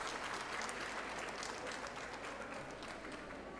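Steady applause from an audience at an international convention for English teachers, a dense even patter of many hands clapping at moderate distance that holds for the whole stretch and eases only slightly near the end.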